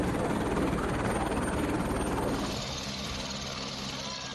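Two helicopters land at the Panchhi helipad of the Mata Vaishno Devi shrine after flying from Jammu airport, with a loud, dense rotor and engine roar that eases to a lower, steadier hum halfway through.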